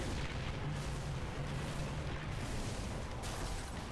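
A Hyperhog vehicle turret fires continuously in the Halo 3 game, producing a dense, loud, rumbling barrage of rapid shots that barely pauses.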